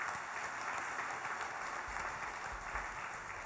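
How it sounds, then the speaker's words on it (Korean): An audience claps at a clan association general assembly held in a Busan Red Cross hall auditorium. The applause is a steady, fairly faint patter that lasts a few seconds. "우리 근 회장님께 격려의 박수, 감사의 박수를 좀 부탁드리겠습니다."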